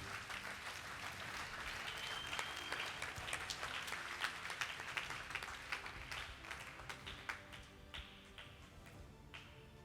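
A church congregation at a French-language Easter seminar applauds the Lord, a dense spread of many hands clapping with sharp individual claps standing out, mixed with faint voices before tapering toward the end.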